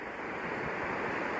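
Wind blows steadily across a rock above a beach in Guarapari, Brazil, buffeting the microphone with broad rushing noise over a low rumble of surf. No one speaks.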